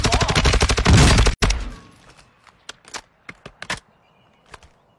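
Video game gunfire opens with a dense, loud burst of rapid shots, then cuts to scattered single cracks and thuds that grow sparser and quieter.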